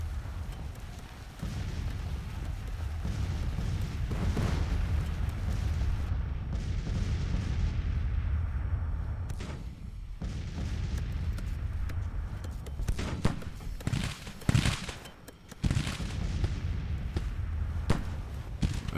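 Civil War troops fire volleys in a strategy video game, with crackling musketry and booming cannon rolling over a dense battlefield din, the shots growing sharper and more distinct toward the end.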